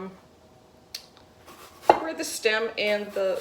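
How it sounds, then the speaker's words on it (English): A knife slices through an apple being prepared for puff pastry apple roses, with a few sharp cuts and clicks early on, then a voice talks over the later part. "we're going to slice it from end to end"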